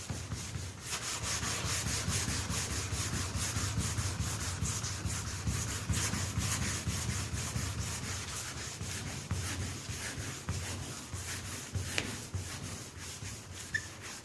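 Steady wet sanding of fresh primer on a 1966 Ford F1 pickup body, a continuous close rubbing swish with slight back-and-forth rhythm that holds unbroken for the whole stretch, no voices.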